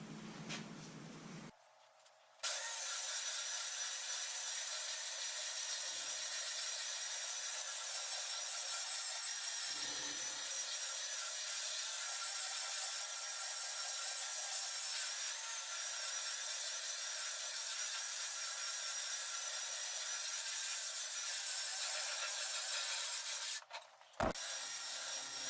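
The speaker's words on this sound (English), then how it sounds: "one of the things you want to do when you're sanding like this is don't fight the machine" A power sander works a longleaf pine live edge slab for a coffee table top, giving a loud, steady whirring hum that runs almost unbroken for over twenty seconds, cutting off briefly near the end before restarting.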